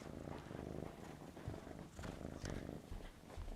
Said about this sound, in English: Oh, do you hear the purring?